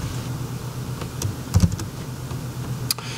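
Typing on a computer keyboard while coding, a few scattered soft key clicks over a low background hum, with no talking.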